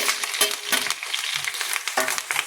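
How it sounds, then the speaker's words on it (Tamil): Okra (ladies finger) sautés in a pan for a vendakai vathal fry while being stirred, with a continuous sizzle broken by repeated scraping strokes of a spoon close up. "நல்லா கிண்டணும். கொஞ்ச நேரம் வதக்கட்டும்."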